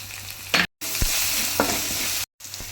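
Ginger paste with turmeric and Kashmiri chilli powder frying in a pan for dal makhani, a continuous close sizzle with a few brief stirring scrapes and two short dropouts.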